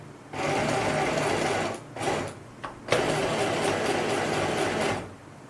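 A sewing machine stitches short pants in two long steady runs with a short pause and a brief burst between them, loud and close with no talking.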